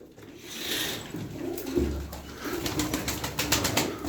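Pigeons coo low and throaty inside a coop, a quiet close murmur with faint rustling and a brief flutter.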